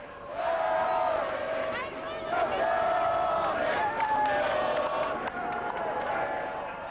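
Crowd along the Champs-Élysées cheers and shouts at the 1991 Tour de France final stage from Melun to Paris, a loud sustained roar with whoops and rising yells, sounding close and continuous.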